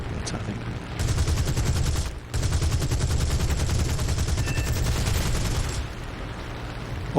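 Aircraft cannons fire in War Thunder in long, loud, rapid bursts with a brief gap after the first second, then sustained chattering fire for several seconds.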